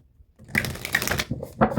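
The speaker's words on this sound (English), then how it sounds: "I just shuffled three decks because I'm going to use them all three" Three decks of playing cards being shuffled at close range, a quick dense riffle burst after a moment of quiet, then a brief pause and a final short flurry as the cards settle.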